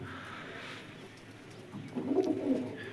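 Pigeons of various breeds coo nearby, with soft throaty murmuring and a louder rolling coo swelling toward the end, no talking over it.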